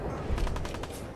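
Harpoon gun fire in the game Fallout 4: a few faint, quick gunfire-like bursts in close succession over low, steady game background noise.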